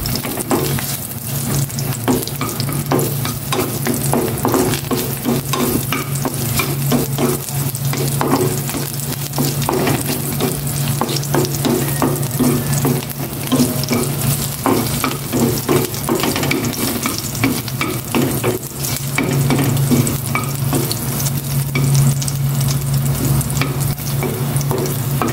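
Garlic fries in hot oil in a wok, a loud continuous sizzle broken by repeated stirring scrapes, close and steady for the whole stretch with no talking.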